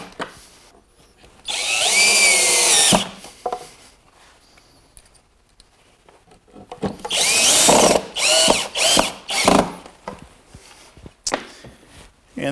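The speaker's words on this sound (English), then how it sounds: "I'm just going to put a couple screws in here just to show you how this looks." A power drill drives pocket hole screws into a wooden coffee table, in two loud bursts of whirring with short pauses and a quiet stretch between them, no talking.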